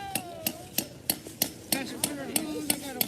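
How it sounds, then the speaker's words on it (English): Sharp metallic hammer strikes, about ten evenly spaced blows, close by, as a tap is hammered into a maple tree, with a person talking softly underneath. "let's hammer it"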